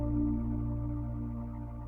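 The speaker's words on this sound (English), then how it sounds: "you can hear some nice airy pads with some plucks" Soft, airy synth pads hold a sustained, warm chord with a faint shimmer, steady and fairly quiet throughout the short stretch. No distinct plucked notes stand out above the pad.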